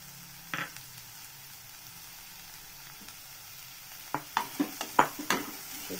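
Finely cut carrot, capsicum and onion sauté in a pan with a faint sizzle, then a quick run of sharp spatula scrapes and taps toward the end.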